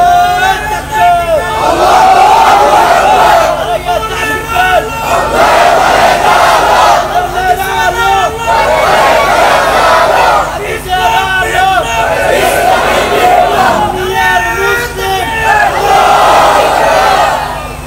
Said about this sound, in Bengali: আকাশ বাতাস কাঁপিয়ে একটা তাকবীর দেন।